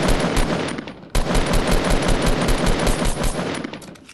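Loud, rapid automatic gunfire in a Fortnite Battle Royale tournament match, dense bursts almost without pause apart from one short break, with no talking.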